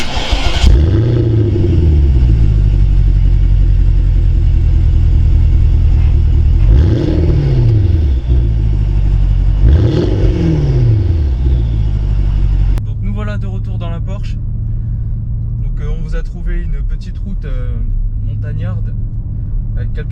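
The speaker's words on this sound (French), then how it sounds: "je vais démarrer la voiture et vous allez pouvoir entendre ça" A Porsche Cayenne with a V8 biturbo engine starts up and revs repeatedly, loud rising and falling bursts through the exhaust, then settles into a rumbling idle while a person talks over it.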